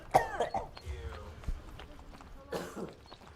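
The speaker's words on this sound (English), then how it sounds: "Oh, I got a cough." A person coughs sharply twice, a stifled burst near the start and another about two seconds later, with throat clearing and quiet room noise between during a game livestream.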